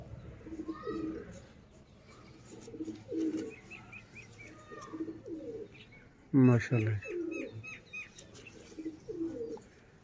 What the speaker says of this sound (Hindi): सियालकोटी शेखां वाले कबूतर